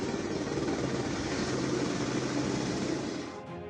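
A helicopter in flight over a disaster relief and rescue operation in the mountains near Joshimath, giving a steady, loud rotor and engine roar that holds throughout and eases slightly at the end.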